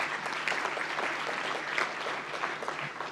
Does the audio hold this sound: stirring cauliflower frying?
no